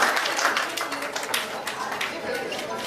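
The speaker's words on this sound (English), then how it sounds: "So a round of applause for Jayam Ravi to Trivandrum, ladies and gentlemen, for PS1." An audience in Trivandrum gives actor Jayam Ravi a round of applause, a dense patter of clapping with a voice talking over it, fairly loud and steady, easing slightly toward the end.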